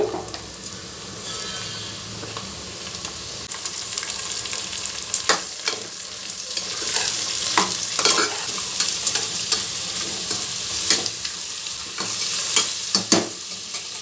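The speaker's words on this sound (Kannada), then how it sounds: "ಈರುಳ್ಳಿ ಬೆಳ್ಳುಳ್ಳಿ ಸ್ವಲ್ಪ ಎಣ್ಣೆಯಲ್ಲಿ ಚೆನ್ನಾಗಿ ಫ್ರೈ ಆಗಬೇಕು" Onion, garlic and carrot frying in oil for a carrot pulao, a steady close sizzle broken by scraping stirs and clatters from a spoon against the pan.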